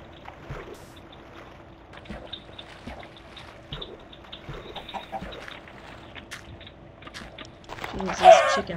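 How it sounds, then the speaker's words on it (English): Chickens in the Minecraft Tekkit modpack cluck repeatedly in short, faint bursts under a voice, with a louder burst of noise near the end. "these chickens lay eggs like crazy"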